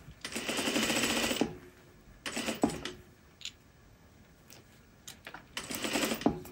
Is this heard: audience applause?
no